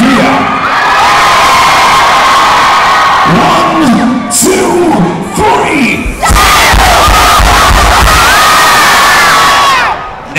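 A rock concert crowd at a show screaming and cheering at full volume, a dense roar of yelling and whoops that swells and dips briefly before surging back even louder.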